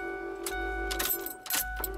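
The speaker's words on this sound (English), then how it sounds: "So I'm turning the key right now." Ignition key of a Ford F650 truck turned to start with no crank: soft clicks and key jangles over steady dashboard chimes and electrical hum, with no engine turning over.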